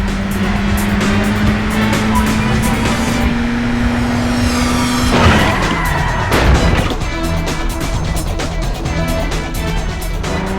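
Cars race and skid in the arcade racing game Burnout, with a loud sustained engine whine that drops in pitch, then a burst of tire squeal and crashing effects over constant roaring motion.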